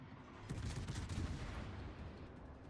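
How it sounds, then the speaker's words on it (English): Video-game gunfire during a Dockyard mission, a faint, distant burst of rapid shots starting about half a second in and fading over the next second or two, with no talk. "this North group's already shooting at you guys"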